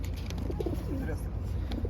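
Pigeons coo softly at a pigeon show, a couple of low rolling calls rising over a murmur of background voices and crowd noise.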